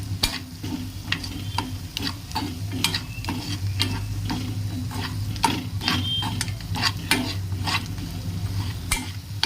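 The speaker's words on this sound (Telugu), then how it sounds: "బాగా మిక్స్ అయ్యేటట్టు కారం పొడి అన్నీ పట్టుకునేటట్టు కలుపుకోవాలి" Salt and chili powder being stirred into a mixture: a spoon scraping and tapping in a quick, regular rhythm over a faint steady sizzle, close and moderately loud, without any speech.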